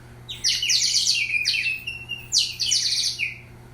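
A Peruvian whistle filled with water gives a bright, wavering warble that rises and falls in two bursts, trilling birdlike with a watery, bubbling flutter against a quiet background.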